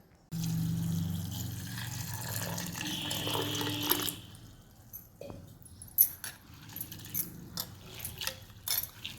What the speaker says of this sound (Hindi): हमने पहले इसे धो लिया है मगर फिर भी हम एक पानी से इसे धो लेंगे